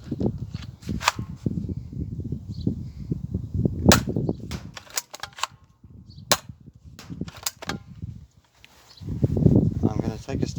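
A modified Alphastrike Tiger Ultra foam dart blaster fires in a series of sharp, loud snapping shots at irregular intervals, close by, with someone talking between and over the shots.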